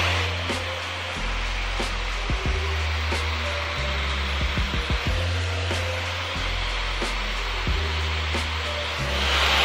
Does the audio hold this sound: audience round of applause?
no